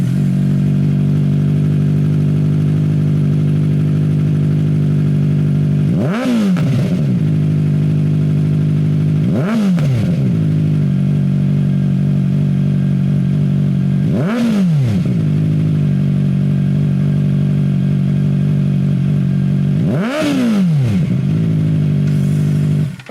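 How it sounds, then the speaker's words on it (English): A Kawasaki ZX-4RR motorcycle fitted with an AT2 slip-on exhaust sits at a steady, deep idle, then blips its throttle four times in short sharp revs that rise and fall back. The engine is loud and close, and no one speaks. "The exhaust tone is much deeper as well, and it changes to a more sonorous tone as you go up the rev range."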